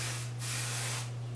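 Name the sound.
hairspray being sprayed onto curled hair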